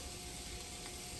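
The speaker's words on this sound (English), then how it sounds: "I think I'm just gonna fry it all over" A sausage roll frying in a pan gives off a steady, close sizzle that holds even and unbroken from start to finish, with no voices over it.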